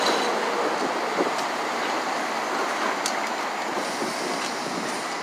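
A New York City subway train near 34th Street Penn Station gives a steady, loud rumbling roar with faint metallic squeals and clicks, continuous throughout and without speech.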